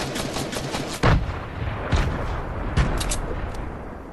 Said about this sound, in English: Some beautiful grenades there